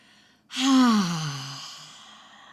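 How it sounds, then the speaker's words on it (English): A single big open-mouthed exhale, a breathy voiced "haa" sigh that starts sharply and fades out slowly, close and alone. "big open mouth, H-A, exhale"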